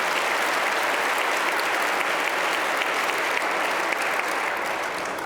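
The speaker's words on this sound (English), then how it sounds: "Somebody can give him a round of applause." Sustained, full applause from a large audience at the Aspen Ideas Festival, a dense, even roar of clapping that holds steady throughout with no speech over it.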